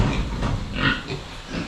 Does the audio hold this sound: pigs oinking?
yes